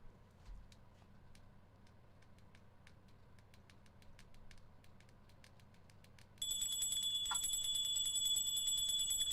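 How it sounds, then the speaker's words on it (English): Tinkly bells break into a bright, steady high-pitched ringing partway through, loud and sustained to the end, after a stretch of faint, regular ticking clicks over a low background hum. "Tinkly bells?"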